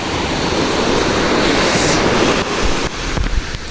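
Waves washing up on a clean, litter-free seashore in the Philippines, a loud continuous surf roar mixed with wind buffeting the microphone, easing slightly toward the end.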